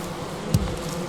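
Bees buzz around flowers in the video game Valheim, a faint, brief insect drone with a small soft bump partway through, heard alone.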